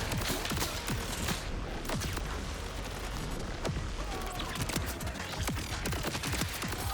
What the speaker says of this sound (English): Fireworks, everybody. It's fireworks.